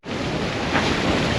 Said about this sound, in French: Il y a pas mal de vagues en fait, hein.